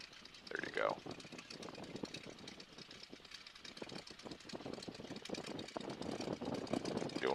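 The radial engine of a 1942 Boeing Stearman biplane runs on the ground at low power, a faint steady drone and knock under intermittent talk from people nearby.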